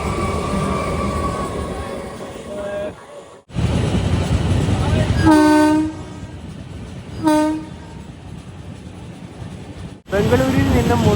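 A local train on the Arakkonam–Chennai Central line passes, with a steady rumble, two loud horn blasts midway and another at the end, heard from aboard an express near Perambur station; talk is faint in the background.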